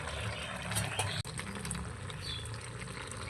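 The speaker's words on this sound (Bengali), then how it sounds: "ঢাকা দিয়ে ভালো করে আলুটা আর এঁচোড়টা আর একটু ভালো করে ফুটিয়ে নেব।" Potatoes and jackfruit simmer in a covered pot with prawns, a soft, steady bubbling hiss at low volume, broken once by a brief sharp click.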